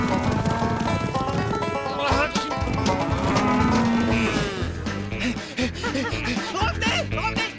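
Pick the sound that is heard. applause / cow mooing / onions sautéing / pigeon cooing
cow mooing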